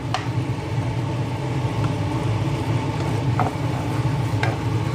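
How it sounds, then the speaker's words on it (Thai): Crispy catfish being stir-fried in a pan with southern Thai curry paste, a steady sizzle and scraping stir with occasional sharp utensil clicks, close and continuous with no talking. "เอาปลามาคลุก ผัดต่อได้เลยนะครับ"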